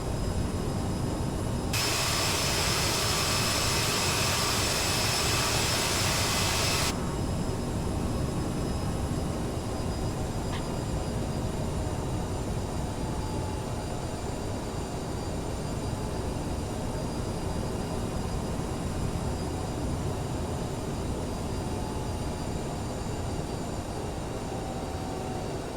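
A jet airliner in Microsoft Flight Simulator 2020 spools up for takeoff, a steady loud engine roar filling the whole stretch, with a brief brighter hiss burst near the start.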